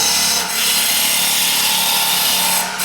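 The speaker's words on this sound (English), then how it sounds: "So there I've hit the resin. Yeah, it's starting to chip. You hear that sound, it's chipping." Continuous harsh scraping and chattering of a lathe tool chipping resin in an ash maple bowl, loud and close, with a brief dip partway through.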